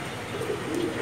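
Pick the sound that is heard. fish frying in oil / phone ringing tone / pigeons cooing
pigeons cooing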